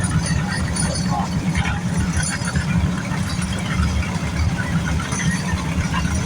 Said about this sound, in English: F-250 King Ranch sounds good.